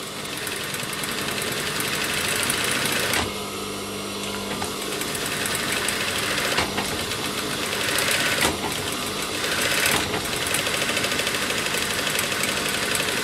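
Sewing machine running steadily as it stitches the side of a fabric piece beside stiff interfacing, a close, constant motor whir with a few brief slowdowns and restarts, and no voices.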